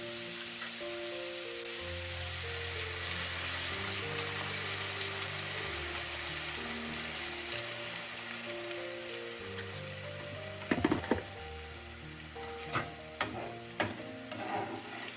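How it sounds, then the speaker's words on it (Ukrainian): Zucchini stew sizzles steadily in a frying pan with water added, under background music, with a few sharp utensil clanks toward the end. "А якщо додати води, воно буде собі повільно тушкуватися."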